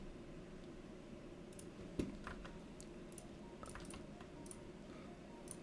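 Scattered keystrokes and clicks on a computer keyboard tap irregularly over a low steady background hum, faint and close, with one sharper click standing out and no voices.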